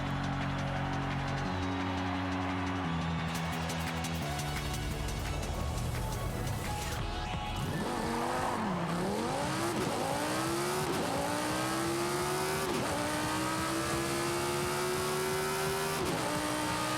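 An Audi R8 supercar in the Forza Horizon 5 racing game revs and accelerates through rising, shifting engine pitches with sharp gear changes. The engine note is loud and continuous, with no talk over it.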